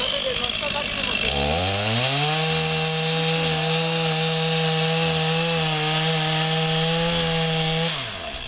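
A freshly sharpened chainsaw cuts through wood, its engine rising into a loud steady whining drone that holds for several seconds and then drops away, with brief rough sounds before the cut begins.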